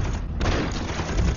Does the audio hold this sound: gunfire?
yes